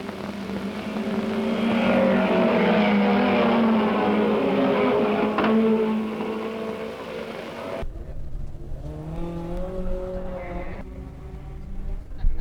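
Vintage racing cars, a Cooper among them, roar through their last lap at Mallory Park with a loud, sustained engine drone for about eight seconds before it cuts off and a voice takes over.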